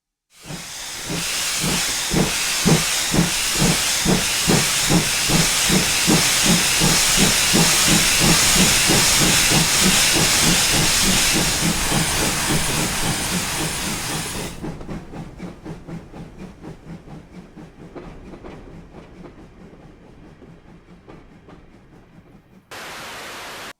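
A GWR Armstrong class steam locomotive in Train Simulator hisses loudly with a rapid, steady chuffing rhythm that slowly fades, then drops to a quieter hiss before a short renewed burst at the end.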